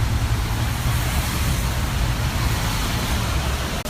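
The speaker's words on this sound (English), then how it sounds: "Loud traffic." Loud road traffic roars outside a building, a dense, steady wash of passing cars and heavier vehicles with no voices, ending in a brief click.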